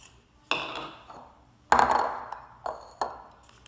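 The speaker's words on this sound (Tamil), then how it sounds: "இப்போ நம்ம இதை வேறு பாத்திரத்தில் மாற்றிக்கலாம்." Ground mutton mixture for kola urundai is moved into another vessel, with several sharp metallic clinks and scrapes of a spoon against a steel pot, spaced irregularly and close by.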